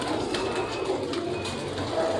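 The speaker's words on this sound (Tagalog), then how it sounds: "Ito yung mga ibon niya oh" Pigeons in a racing loft housing long-distance breeder birds, giving soft, steady cooing and low murmuring close by, with faint rustling and no talk over it.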